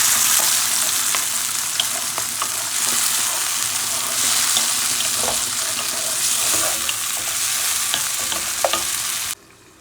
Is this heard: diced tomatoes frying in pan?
yes